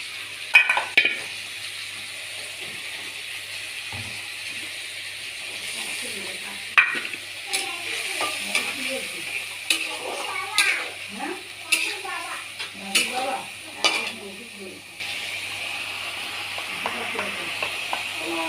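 A broken-wheat dalia mixture with green chili, soaked turmeric, cumin and chili powder, and salt hisses and sizzles in a pan as it is stirred and sautéed, with a voice talking over the steady frying.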